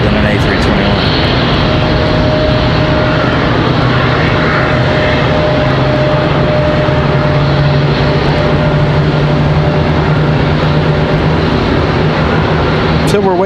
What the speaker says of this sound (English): That was a loud departure. I was in the A321. It sounded a lot louder than an A321.